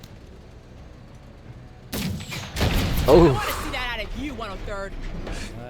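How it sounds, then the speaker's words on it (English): An explosion in the video game MENACE hits with a sudden loud blast that rolls into a rumbling tail, and a man exclaims over it. "Look at that explosion."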